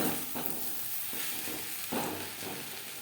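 Sliced banana stem frying in a pan, stirred around as it cooks, gives a steady close sizzle broken by soft scraping strokes every second or so, with no talking.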